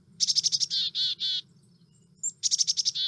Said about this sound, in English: A little clearer call of the black-capped chickadee.